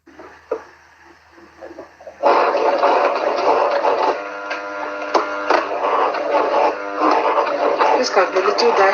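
A sewing machine running steadily as it stitches a fitted garment pattern, a close continuous buzzing whir that starts after a quiet moment of handling noises.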